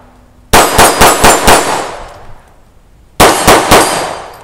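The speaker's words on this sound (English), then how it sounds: "shooting a Taurus TX-22, probably one of the best defensive handgun analogs out there" A Taurus TX-22 pistol fires at steel targets: a rapid string of five sharp shots with ringing clangs, a short pause, then three more quick shots, each loud and close with a metallic ring.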